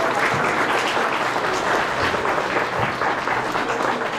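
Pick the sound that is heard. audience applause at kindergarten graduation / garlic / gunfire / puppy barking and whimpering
audience applause at kindergarten graduation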